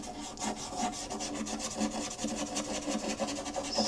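Colored pencil smudged and rubbed into paper while drawing black dog fur, giving a close, continuous dry scratchy rasping with quick repeated strokes throughout.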